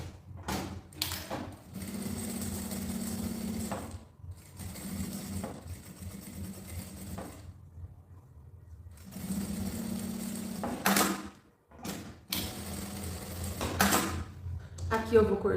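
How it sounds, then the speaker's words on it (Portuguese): A sewing machine stitches a straight section of a fabric oral hygiene pouch, running in several close bursts of steady motor whir separated by brief pauses, with soft handling sounds between runs. "E vou costurar aqui também nessa parte reta, só pra deixar tudo juntinho"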